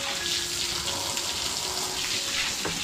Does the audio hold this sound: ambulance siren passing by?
no